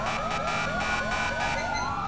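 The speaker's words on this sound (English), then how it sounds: "Everybody kill your sirens and your lights." A police car siren from GTA 5 roleplay wails in steady rising sweeps, loud and continuous with engine and road noise beneath and no talk.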